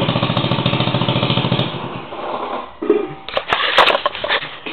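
A rebuilt moped engine runs close by with a fast, steady putter that fades partway through, then gives way to irregular rattling and mechanical clatter.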